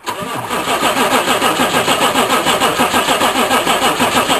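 A one-ton dually truck engine turns over with a rapid, rhythmic cranking chug and catches, running as a steady, loud, close-up mechanical drone with no talking.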